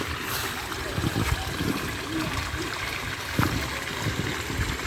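Floodwater flows along a rural village canal after heavy rain, a steady broadband wash and trickle running continuously and fairly near, with a few soft splashes and no voices over it.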